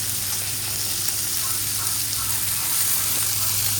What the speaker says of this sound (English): Just trying not to have this steak well done.